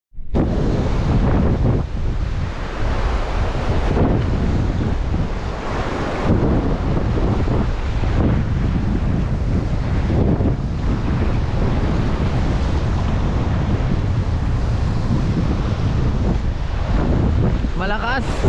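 Strong waves and wind at sea near rocks by Santa Fe, a constant heavy roar of surf and buffeting wind against the microphone, with brief voices in the mix.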